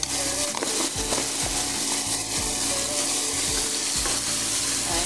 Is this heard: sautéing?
yes